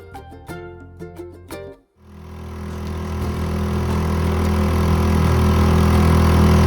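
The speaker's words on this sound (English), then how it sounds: "Safely in the rib, outboard started." Some tapping sounds, then a small outboard motor on a rigid inflatable boat starts and settles into a steady, loud running drone that continues to the end.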